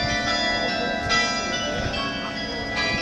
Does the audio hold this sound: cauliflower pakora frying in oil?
no